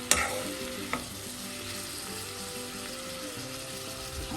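Breadfruit thoran stirred in a covered pan, a spoon scraping and clinking against the metal over a steady, close sizzle that carries on through the whole stretch, with a sharper knock near the start and again about a second in.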